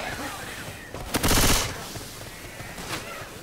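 A sudden loud burst of rapid gunfire in Left 4 Dead 2 lasts about half a second, with quieter game noise before and after and a smaller burst near the end.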